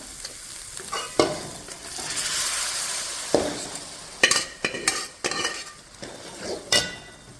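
Keema (minced meat) sizzles in a hot pan while a utensil stirs it, with scraping and light metallic clinks against the pan recurring throughout at close range.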